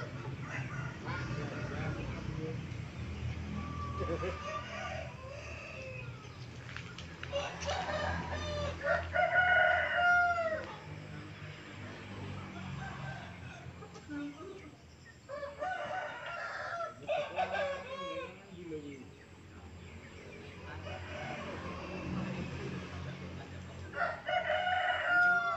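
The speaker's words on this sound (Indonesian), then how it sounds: "betina bisa berkokok" A hen crowing like a rooster, several strained cock-a-doodle-doo calls spaced through the clip, fairly near, with clucking and voices talking around them.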